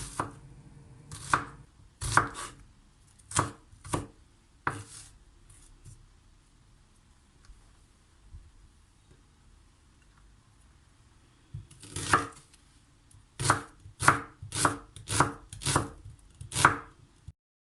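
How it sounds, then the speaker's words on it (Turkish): A knife thinly slices two medium dry onions on a cutting board in quick, crisp chops. The chops come in two bursts separated by a quiet pause of several seconds. "İki adet orta boy kuru soğanı piyazlık olacak şekilde ince ince doğruyoruz"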